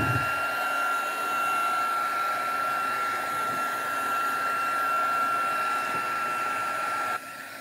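A hair dryer blows steadily and loudly at close range, drying paint on a collage, a continuous whooshing hum that holds unbroken for several seconds before dropping slightly at the end.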